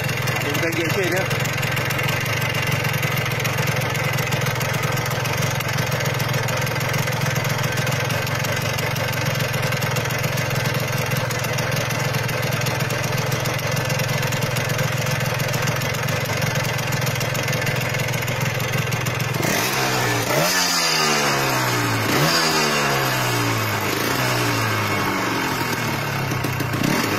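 A Yamaha RXZ motorcycle, stored and started only once a year, idles steadily and loudly close by with a constant engine drone, then blips and revs briefly near the end.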